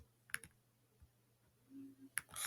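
Two sharp, faint computer mouse clicks, each a quick double tap, sound about two seconds apart in a quiet room.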